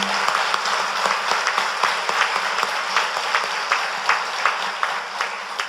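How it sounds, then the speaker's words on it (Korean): Sustained applause from a congregation at an Easter Sunday church service, a dense wash of many hands clapping at steady volume, with a few sharper claps standing out and no talk over it. "주님께 다시 한번 감사와 영광의 박수를 올려드립니다"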